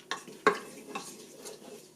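Whole spices hit hot oil in a Crock-Pot Express multi-cooker on saute, giving a few sharp close clinks and stirring scrapes over a faint, quiet sizzle.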